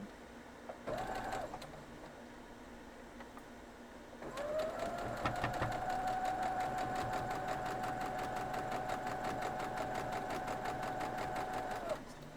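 A sewing machine stitches quilt triangles, one short run followed by a long steady whirring hum with rapid needle clatter, close and continuous for about eight seconds.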